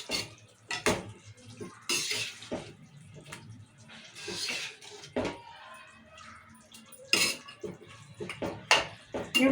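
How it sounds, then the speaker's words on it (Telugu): Chicken curry cooking in oil without water is stirred in a pot, giving irregular metallic clinks and scrapes of a spoon against the pot, quiet and close, with no talking. "ఒకసారి కలుపుకుందాము ఇట్లా నూనెలే ఇట్లా ఉడికించుకోవాలి నీళ్ళు పోయకుండా"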